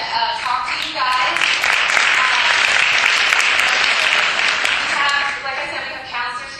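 An audience of students at a talk breaks into steady, loud applause that swells and holds before tapering slightly, with a speaking voice heard at the start and end.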